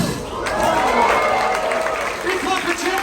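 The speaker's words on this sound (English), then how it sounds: "Big clap for Champ for Toronto, everyone." A cruise ship audience claps and cheers steadily for a performer, loud and sustained, with a voice talking over the crowd.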